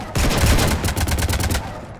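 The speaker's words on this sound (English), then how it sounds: "You want to stop shooting up my ship?" A rapid automatic burst of gunfire hits a ship in the video game Mass Effect 3, loud and close, lasting about a second and a half before cutting off.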